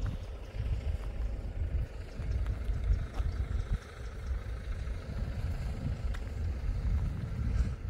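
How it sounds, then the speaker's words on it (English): A van's engine idles nearby on a windy morning, a steady low rumble continuing throughout with wind buffeting the microphone. "It's another van there, got his engine running."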